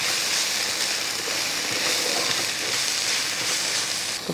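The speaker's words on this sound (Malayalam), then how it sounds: "ആ മുരിങ്ങപ്പൂ ഇട്ടതിന് ശേഷം ഒന്ന് ഇളക്കി കൊടുക്കുക." Drumstick flowers stir-fry in a pan for a Kerala-style thoran, making a dense, steady hiss of sizzling oil that stays loud and even throughout.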